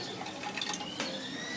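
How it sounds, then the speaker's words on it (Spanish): Water trickles and splashes briefly into an empty metal can, a short close pour with a thin liquid rush and light drips; no voices. "vamos a colocarle agua a esta lata"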